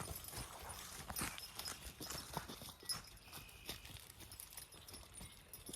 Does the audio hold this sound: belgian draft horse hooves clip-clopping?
yes